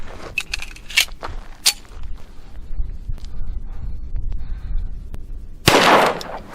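A Thompson Auto-Ordnance 1911 .45 pistol fires on an outdoor range: several sharp, clipped reports come early on, and a louder, broader blast arrives near the end, with no voices.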